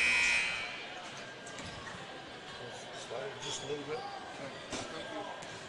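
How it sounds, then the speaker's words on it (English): A loud buzzer ends the second quarter of a high school basketball game between the Tanagers and Tri-Valley Mustangs, blaring for about half a second at the start before fading into gym crowd noise, ball bounces and scattered voices. "And you're about to get the buzzer here."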